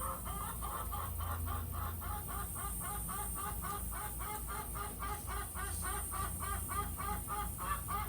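Chickens cluck close by in a rapid, rhythmic run of repeated calls over a steady hum, loud and continuous with no talking.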